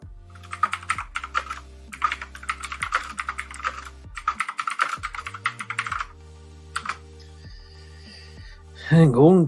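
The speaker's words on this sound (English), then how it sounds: "you hear my damn keyboard" Keys clack in fast bursts on a computer keyboard, close and loud beneath a steady electronic tone from arcade sports game music, with a brief voice at the end.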